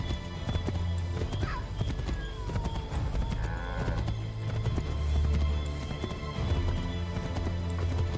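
Horse hooves clip-clop steadily and close in Assassin's Creed III, with a layered game soundscape and tonal effects continuing underneath for the whole stretch.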